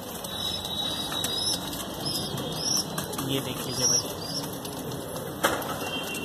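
Pigeons, desi high flyers kept for sale in Dombivali, Mumbai, flap their wings in flight, a soft fluttering over steady outdoor noise with a brief louder burst of wingbeats near the end and someone speaking briefly.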